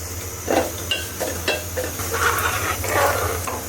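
Radish greens frying in a pan with garlic, onion and green chili give a steady sizzle and hiss, broken by several scraping stirs at an uneven rhythm, close and moderately loud.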